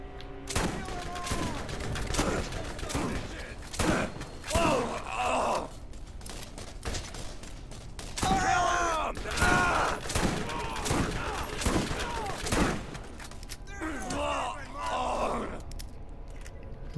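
Gunfire rings out in Borderlands GOTY on PS4 during a fight for the mine key. Repeated loud shots and volleys mix with in-game voices, grunts and groans over seventeen seconds.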